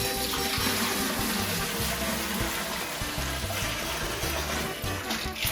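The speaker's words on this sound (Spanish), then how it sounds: "Tengo mi vaporera, voy a vaciar el agua" Water pours into a steamer pot in a continuous splashing stream, close and fairly loud, while low background music plays.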